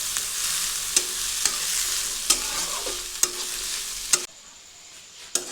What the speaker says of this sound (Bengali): তারপর বিনস আর ক্যাপসিকাম, এগুলি ভেজে নিচ্ছি।